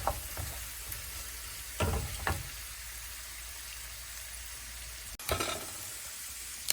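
Water sizzles and spits in hot frying oil with a steady crackling hiss, punctuated by a few louder bursts of popping, heard close and alone while cooking spinach and mushroom crepe filling.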